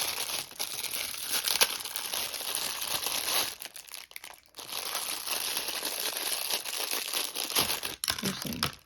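Packaging crinkles and crackles steadily up close, a dense rustle of crumpling plastic or paper with brief pauses and no talking.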